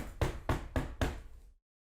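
Knocking on a door, imitated: four quick, evenly spaced thumping knocks, close and fairly soft, that stop abruptly.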